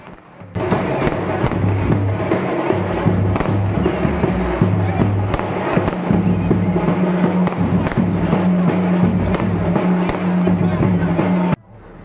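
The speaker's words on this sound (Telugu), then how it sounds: "వచ్చేటప్పుడు టపాసులు అవి ఇవి ధూమ్ధామ్ చేస్తున్నారనమాట." Firecrackers bursting during a Sankranti festival procession in a hometown street, a dense, continuous clatter of pops and thumps that stays loud for about eleven seconds amid crowd noise, then cuts off abruptly.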